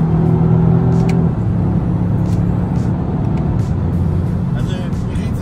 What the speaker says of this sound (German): Ich gebe jetzt Vollgas.